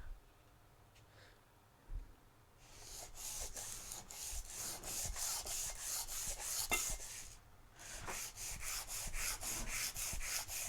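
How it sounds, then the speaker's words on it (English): Sandpaper rubbing across the top surface of a piece of wood, starting quietly and then turning into steady, fairly close rasping strokes in a continuous rhythm, with a brief pause midway and no one talking. "I want to get the surface sanded on the top, and get this thing all looking good."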